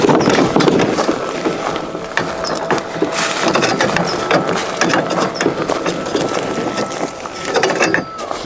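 Homemade tumbler trommel sifter drum turning on rollers while sifting wood chips and compost, a busy clattering rattle of tumbling material and squeaking, ratcheting rollers, loud and continuous up close.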